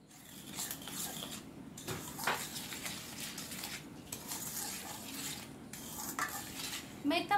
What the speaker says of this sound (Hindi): इसको अच्छी तरह से मिक्स कर लीजिए